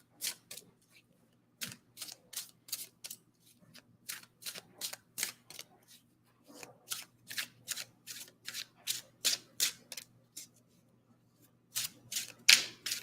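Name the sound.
cards being shuffled and laid out for a reading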